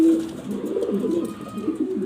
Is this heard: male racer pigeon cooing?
yes